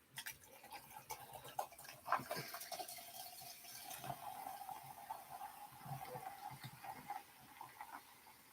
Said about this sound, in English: Let me pour my water.